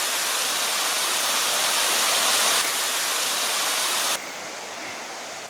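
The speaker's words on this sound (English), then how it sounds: "there's a bit of a creek." A creek on the E&N Railway route between Alberni Summit and Cameron Lake in February rushes with a steady, broadband wash of flowing water that drops slightly in level near the end, with no talk over it.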